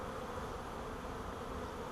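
Honey bee swarm humming close by, a dense steady drone of many wings holding at an even level throughout, with no voices.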